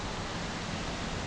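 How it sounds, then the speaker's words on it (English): Water jets spray steadily in Glen Lyn Gorge in North Devon after a day of constant rain, a dense, even rushing hiss with no breaks, close and fairly loud. "I'm not entirely sure what all those water jets are about behind me."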